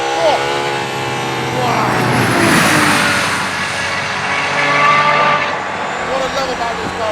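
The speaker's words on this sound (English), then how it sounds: "That Cosworth V12, you just can't believe how powerful it is" Aston Martin Valkyrie's Cosworth V12 screams on track, rising and falling through revs in a loud, continuous wail, with a brief exclamation from the driver over it.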